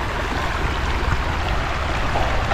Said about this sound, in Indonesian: dia nampak sungai kat sini.